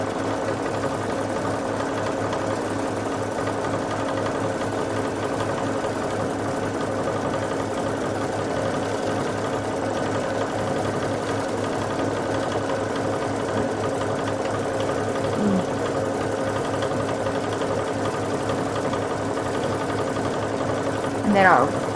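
A Babylock Crescendo sewing machine runs steadily during free motion quilting, a close, continuous mechanical hum with a fast, even stitching pulse that barely changes throughout.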